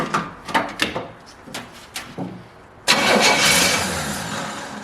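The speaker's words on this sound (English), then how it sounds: "let's give it a quick little shot of some starting fluid. And let's just spin it, see if we get it to sputter at all." A 1970 Pontiac LeMans Sport convertible engine, primed with starting fluid, cranks in a few uneven bursts, pauses, then catches into a loud, steady sputtering run that slowly fades a little.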